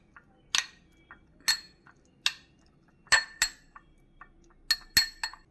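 Spoon clinking sharply against a glass while food colouring is stirred into tutti frutti pieces made from raw papaya, about a dozen quick clear ticks in uneven bursts, close and alone.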